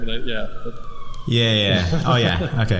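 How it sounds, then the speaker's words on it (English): An ambulance siren wails outside on a New York street, faint and distant beneath a close conversation between people talking indoors. "I don't know if you can hear the ambulance outside."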